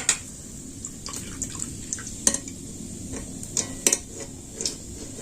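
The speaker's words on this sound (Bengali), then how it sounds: "আমি এই যে একটা ছাগনির সাহায্যে এরকম করে ভেজে নিচ্ছি" Flattened rice (chira) frying in hot oil and being turned with a slotted spoon, with a steady low sizzle and repeated sharp metallic scrapes and clinks of the spoon against the pan.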